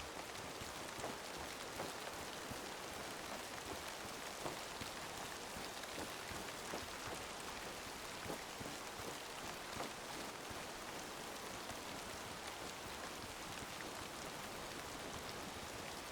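Steady rain falls throughout in the hunting video game Way of the Hunter 2, a dense, even hiss of drops on surfaces with no other sounds standing out.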